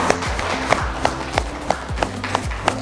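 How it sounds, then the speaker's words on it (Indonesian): A classroom group claps for a student in applause. The clapping is steady and rhythmic, with sharp repeated hand claps close by under a low murmur of background noise. "berikan aplaus untuk Mbak Sesti"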